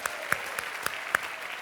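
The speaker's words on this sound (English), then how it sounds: "Round of applause for that" An audience at a literary prize gala applauding, a steady wash of clapping from the hall with a few sharper individual claps standing out, brief and even in loudness.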